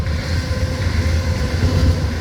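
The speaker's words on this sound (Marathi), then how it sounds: "रेल्वे आली आता रेल्वेच्या आवाज" A steady, loud low rumble of a train rolling by, continuous throughout with no voices.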